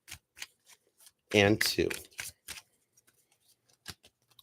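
A tarot card deck is shuffled close by in a couple of quick riffling bursts, while a voice speaks briefly around them.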